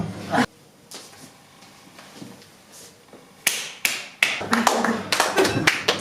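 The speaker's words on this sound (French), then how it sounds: "je vais m'applaudir" A stand-up comedian at an open mic in a comedy club claps his own hands, a short burst of close, sharp claps with more scattered clapping after a quieter stretch.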